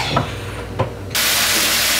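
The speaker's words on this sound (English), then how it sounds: "here's the broccoli and cauliflower cooking. I'm just sauteing it." Broccoli and cauliflower sauté in a pan with garlic. A couple of soft knocks come first, then a loud, steady sizzling hiss starts suddenly and carries on to the end, close to the pan and with no voices.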